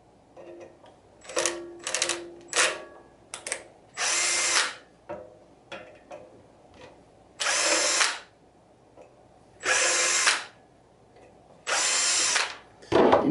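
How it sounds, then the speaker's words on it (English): Power drill working on parts of a Printrbot Play 3D printer during a Z lead screw 4-start upgrade, firing in repeated loud bursts of whirring, some short, some held about a second, with quiet pauses between. "You know you want one of these drills."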